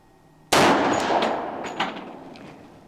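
A single mild-load shot from a Colt Gold Cup National Match pistol, a sharp close crack followed by a decaying outdoor echo and a faint second report.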